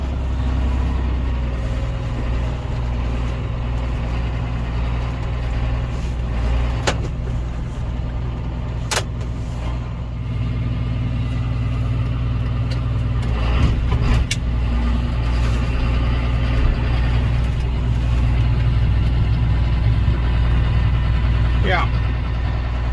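A vehicle engine runs steadily while pushing snow onto a big pile, a loud continuous low rumble with a few faint clanks and squeaks, and a person talks over it.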